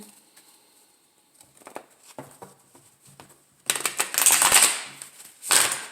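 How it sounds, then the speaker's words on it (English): Tarot cards being shuffled: soft scattered taps give way to a loud, close riffling burst lasting about a second, then a shorter second burst. "Do one more shuffle."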